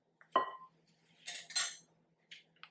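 A spatula scrapes and taps against a bowl to clear off sticky chocolate peanut butter date bar mixture, giving a few short close clinks and scraping strokes with gaps between them.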